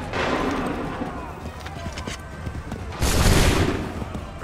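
Musket volley fire in Assassin's Creed III during the Battle of Lexington, with dense crackling gunfire throughout and a louder, heavier volley burst partway through, under shouted battle commands and crowd noise.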